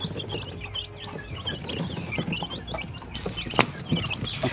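Shamo chickens on a farm clucking and calling in a steady, busy scatter of short bird sounds over a low outdoor background, with a louder burst near the end.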